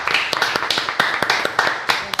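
Studio audience applause for the guest María Pía López, a steady run of sharp, close claps that carries on without a break.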